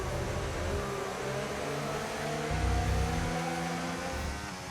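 An F1 car engine from the F1 25 racing game drones steadily as the car drives in after a race at the Brazil Grand Prix, a moderate mid-pitched hum with a slight swell partway through.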